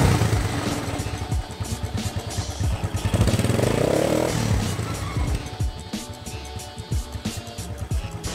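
An SYM Wolf 125 motorcycle with electrical and charging trouble runs close by, its engine chugging steadily with a brief rise in revs midway.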